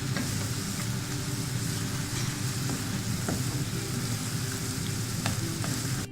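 Salsa sauce sizzles and fries steadily in a pan, a dense continuous crackle held close and loud throughout, with occasional faint clicks of stirring.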